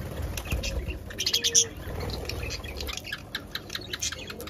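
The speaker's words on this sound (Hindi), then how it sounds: "ये वाला जो शिराजी कबूतर है ना दोस्तों" Shirazi pigeons flutter and flap nearby, with short chirps and soft cooing over a busy outdoor background.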